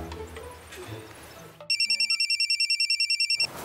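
A telephone ringtone sounding as a call is placed, a rapid chain of bright electronic pulses ringing clearly for about two seconds after a brief stretch of quiet background noise.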